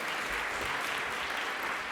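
An audience at an entrepreneurship gala in Montréal claps steadily, a dense, even wash of applause throughout.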